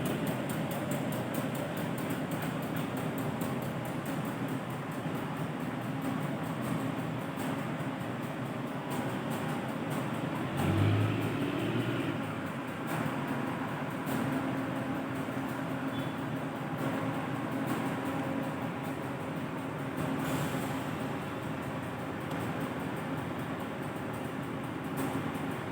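Interior of a K3 economy-class diesel passenger train carrying 60 seated passengers on the Waru–Babat route: a steady engine drone and rolling hum throughout, with one brief thud midway.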